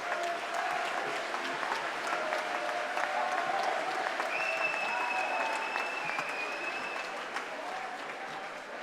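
Sustained applause from an audience at a gathering of Saint-Laurent towns in Saint-Laurent-de-Gosse, France, dense and steady throughout, slowly fading slightly toward the end, with faint tonal background sounds.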